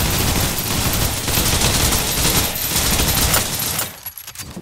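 Turret gunfire roars in the shooter Snowbreak: Containment Zone as a dense, continuous burst of rapid shots for several seconds, loud and close, before cutting off abruptly.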